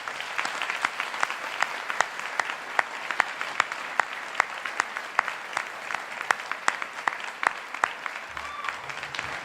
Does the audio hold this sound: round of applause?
yes